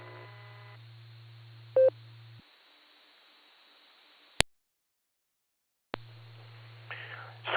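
Telephone tones cut into an amateur radio net on a 2-meter repeater: a steady low hum, a short beeping tone, then silence after a sharp click before the hum returns, with faint whispery noise and a burst near the end.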